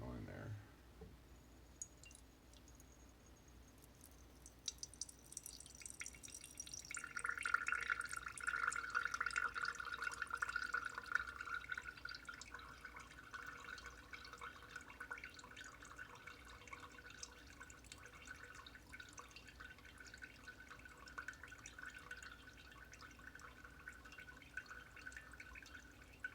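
Water trickles and drips out of soaked oatmeal being poured, a faint, steady pattering that swells briefly and then continues quietly under low talk.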